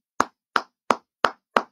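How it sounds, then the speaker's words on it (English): Five crisp, evenly spaced hand claps, close and loud with silence in between, from a journalist applauding during a live radio broadcast. "Then we have to applaud."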